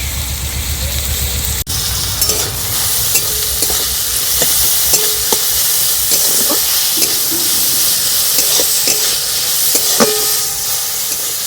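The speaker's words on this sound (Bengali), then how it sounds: "এই মশলাগুলো কাঁচা গন্ধ চলে যাওয়া অবধি একটু ভেজে নেব" Chopped garlic, ginger and green chilli fry in a pan with a loud, constant sizzle and hiss, while a spatula stirs and scrapes in repeated strokes throughout.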